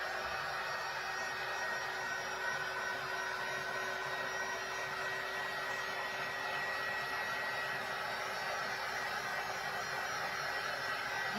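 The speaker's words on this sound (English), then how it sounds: "we're gonna bring our heat tool in" A heat embossing tool blows hot air steadily across a wooden cutting board, a constant close, loud whooshing hiss with no pauses, alone and without talk.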